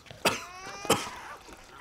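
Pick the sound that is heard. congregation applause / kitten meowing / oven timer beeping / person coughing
person coughing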